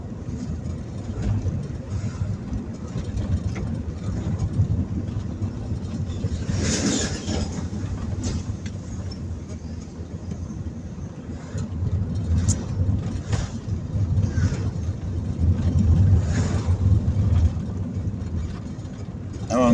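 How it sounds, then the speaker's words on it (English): Steady road traffic heading into Kingston, Jamaica, a continuous near rumble of passing cars and heavier engines with occasional louder pass-bys, no talk heard. "See traffic going into town?"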